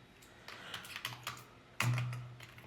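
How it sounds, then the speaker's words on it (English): Quiet keystrokes tapped on a computer keyboard while entering text into an Android to-do list app, a scattered run of light clicks followed by a louder burst near the end. "So we will type some text."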